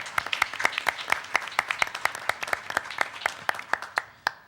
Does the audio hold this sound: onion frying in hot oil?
no